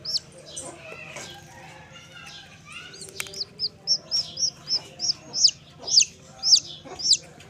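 A native hen in a goat shed, near a box holding hatching chicks, clucks and calls repeatedly in a quickening series of sharp, close calls, with soft chick peeps and rustling underneath.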